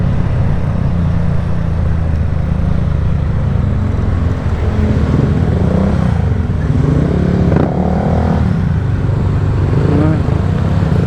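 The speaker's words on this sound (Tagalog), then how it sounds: "Ingay pa naman ng mga motor natin." Motorcycles ride along a rural route near the Maramo River in Norzagaray, Bulacan, on a Holy Week group ride, with a loud, continuous engine drone and wind rumble that never lets up.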